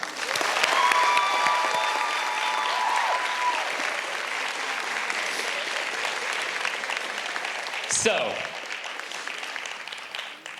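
A middle school graduation audience for the class of 2023 applauds loudly in sustained, dense clapping with some cheering, filling the hall continuously; a voice speaks briefly during the ovation.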